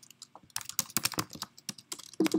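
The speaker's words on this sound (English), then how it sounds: "sorry for my typing skills here" Someone types on a computer keyboard in quick, uneven bursts of close, crisp key clicks with brief pauses between them, ending in a couple of heavier key presses.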